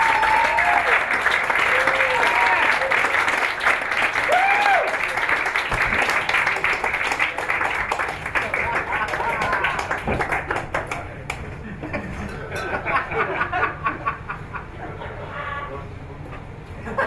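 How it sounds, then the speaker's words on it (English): Audience applause fills a stand-up comedy show in Brooklyn as a comedian is welcomed to the stage, steady clapping mixed with crowd voices and whoops, loud at first and thinning toward the end. "give him a big round of applause when I do"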